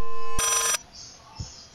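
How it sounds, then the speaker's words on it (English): An old telephone rings inside the horror video game Layers of Fear: a short burst of sharp, loud electronic bell ringing stops abruptly, then quiet room tone follows. "I think it's a phone. A telephone."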